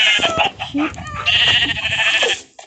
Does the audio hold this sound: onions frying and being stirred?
no